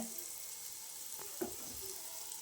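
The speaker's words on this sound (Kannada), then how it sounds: "ಪನ್ನೀರ್ ಫ್ರೈ ಆಗ್ತಿದೆ" Paneer cubes fry in a pan with pepper and chilli powder for paneer fried rice, making a soft, even sizzle with a couple of faint stirring knocks and no talk.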